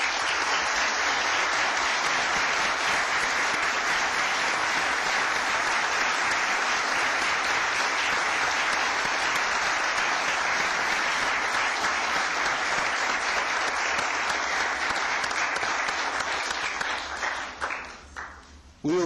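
A council meeting audience gives departing council members a long, loud, sustained round of applause that fills the room for about seventeen seconds, then thins to a few last claps and a clatter.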